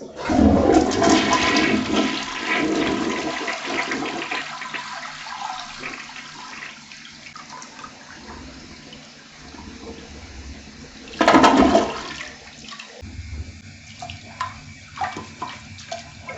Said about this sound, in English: Okay, and you're just going to flush this out.